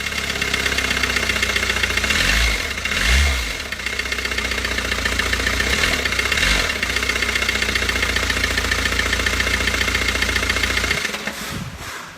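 A car engine damaged after hitting something on the highway runs loud and rough, with a steady knocking idle, a few revving swells, then cuts out near the end.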